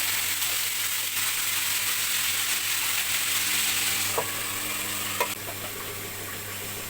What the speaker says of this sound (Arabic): كنت حاطه معلقه زبده وبرده معلقه زيت، وحطيت عليها الشعريه وقلت احمر الشعريه معاكم كده